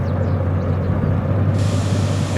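A train air brake releases in the Derail Valley game as a loud, steady hiss of escaping air over a low rumble, running unbroken with no talking.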